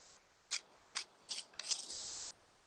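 Paper folded diagonally and torn off by hand while cutting shapes for classroom teaching material, heard as a few short close crisp rips followed by one longer steady tearing stretch, no talk.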